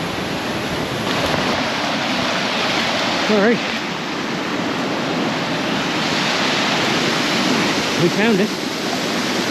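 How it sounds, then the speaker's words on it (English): Farm Brook Falls roars as a steady broad rush of falling water close by, with a voice speaking briefly over it twice. "We made to Farm Brook Falls."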